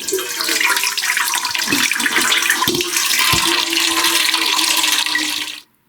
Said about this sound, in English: And this is where you'll see water start dripping out.